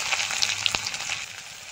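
Chopped onion and crushed garlic fry in hot oil with dried red chilli, giving a close, even sizzle with small pops and crackles and no voices over it.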